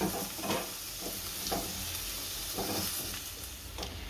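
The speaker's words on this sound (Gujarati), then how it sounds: "આ બટેકાનો જે સૂંદો કર્યો તો એ આમ ભેળવી નાખશું સારો।" Spoon stirring spices into a mashed potato filling for aloo matar paratha in a home kitchen, soft rhythmic scraping and mushy swishes repeating about once a second, close and steady.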